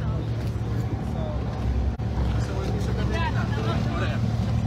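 Istanbul sea taxi motorboat underway, a steady loud engine drone with wind buffeting and water splash close to the microphone, with a voice talking over it.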